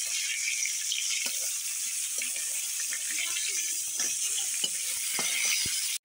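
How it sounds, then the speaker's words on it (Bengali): Fish fries in a pan with a steady, fairly soft hiss and scattered small clicks and taps, no voices, fading abruptly at the end. "মাছটা ভেজে নিচ্ছি"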